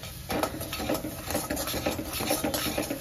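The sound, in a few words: stirring roasted chole masala in a pan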